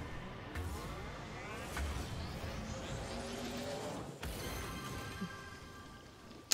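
A car boosting in the video game Rocket League: a continuous, loud, engine-like roar with rising and falling sweeps, a sharp burst partway through and a click at the very end, with no voices.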